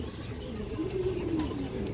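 Domestic pigeons, a mix of breeder pairs and flying birds kept at a home loft, give a low, steady cooing that runs throughout, fairly close and continuous against a soft background.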